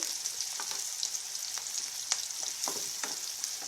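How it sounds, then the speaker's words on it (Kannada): Crushed garlic and onion frying in a pan for a North Karnataka barta, a continuous bright hiss of hot oil with soft stirring ticks scattered through, close and steady. "ಈರುಳ್ಳಿ ಒಂದು ಸ್ವಲ್ಪ ಫ್ರೈ ಆಗಲಿ"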